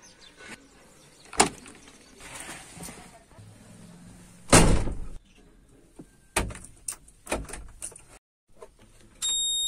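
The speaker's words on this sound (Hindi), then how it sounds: "अभी चाबी ले ली है तो पहले चलो गाड़ी खोल लेते हैं पहले थोड़ा।" A vehicle is unlocked and its door opened, giving a series of sharp clicks, thumps and a loud latch clunk, close by, with quieter rustling between, a brief silence and a steady tone at the end.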